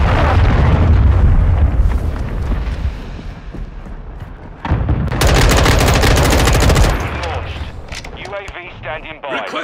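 Loud gunfire and explosions from a Call of Duty Modern Warfare 2 (2022) team deathmatch, with dense bursts and a heavy blast roughly midway, while radio voices speak over the action.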